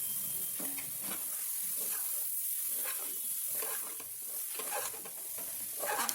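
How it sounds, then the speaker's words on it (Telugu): Cleaned tripe going into a pan for a Telangana-style tomato curry, with a steady close sizzle and repeated scraping stirs across the whole stretch and no one talking. "శుభ్రం చేసినటువంటి బోటిని అందులో వేసుకోవాలి. వేసి మంచిగా కలుపుకోవాలండి."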